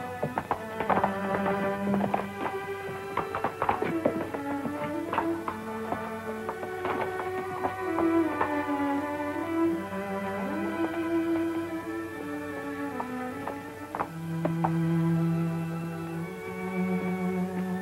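Horses' hooves clip-clop steadily as riders come down a trail in an old Alaskan adventure serial, the even hoofbeats sitting under a loud, continuous orchestral score.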